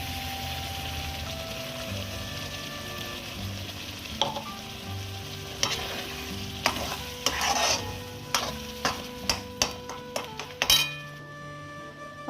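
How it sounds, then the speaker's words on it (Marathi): Paneer frying in oil in a pan as masala paste is added and stirred, giving a steady low sizzle under scraping strokes that grow into a run of sharp spoon clinks against the pan toward the end. "आता पनीरला छान असं तेल सुटलेलं आहे शिजलेलं आहे पनीर छानपैकी आणि आता वरतून मी ही पेस्ट घालते आहे"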